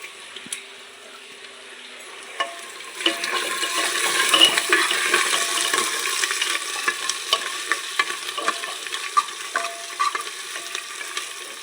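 Garlic and ginger fry in a pan with a steady crackling sizzle that swells after a quiet start, while a spoon clicks and scrapes through the oil. No one speaks.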